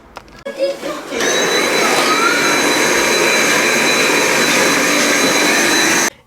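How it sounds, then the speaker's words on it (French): A household vacuum cleaner switches on after a few seconds of quieter handling noise and runs loud and steady, close by, with a high whine, during a deep house cleaning. "Et ensuite, c'est parti pour un bon coup d'aspiration"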